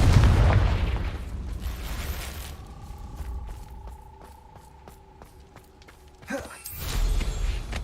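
Confringo spell explosion in the video game Hogwarts Legacy: a loud booming burst opens, then rhythmic chiming magical tones ring out before another heavy blast rumbles near the end.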